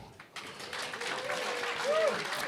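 A comedy club audience at the Harrisburg Comedy Zone breaks into applause that starts abruptly and holds as a dense, steady wash of clapping, with a voice faintly heard over it.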